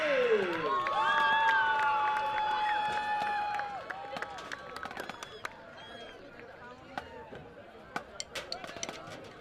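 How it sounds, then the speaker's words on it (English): A crowd in the stands at a high school football game applauds the Southeast marching band, with sustained cheering and clapping that fade into scattered claps and crowd chatter while someone talks over the noise. "please give another round of applause for your Southeast Marching Nose"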